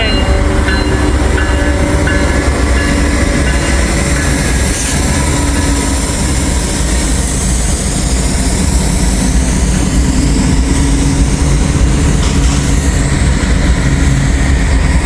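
A train led by an SC40-3 locomotive rolls past in the rain, a loud, continuous rumble and wheel roar with rising whining tones, heavy and close throughout.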